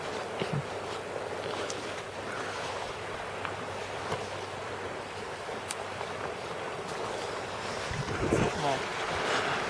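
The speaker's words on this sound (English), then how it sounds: "It's really windy." Strong wind buffets the microphone in continuous rumbling gusts, with waves washing nearby and a louder gust near the end.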